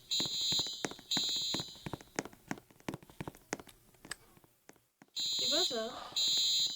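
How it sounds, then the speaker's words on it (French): Fire alarm ringing inside a Roblox Brookhaven school game, loud repeated electronic beeping bursts that start and stop in clusters, pausing briefly before blaring again near the end, with talk and other game sounds around it. "Arrêtez de sonner à l'alarme incendie!"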